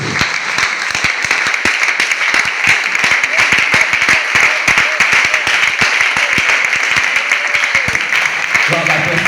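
A church congregation claps and cheers together, steady rhythmic applause filling the room with voices shouting over it.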